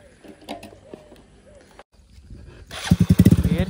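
A Bajaj Platina motorcycle during a stunt: its small engine sputters into a loud, close, rapidly pulsing putter near the end, after quieter handling noises and a brief gap.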